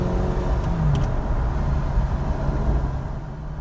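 A Ferrari on its first drive after a rebuild, its engine a steady, loud drone with broadband road and wind roar throughout, no voices.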